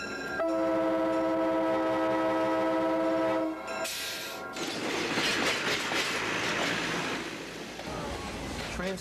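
A train runs on its tracks. A long horn-like tone sounds first, then the loud, continuous rumble and clatter of rolling wagons, close by and steady to the end.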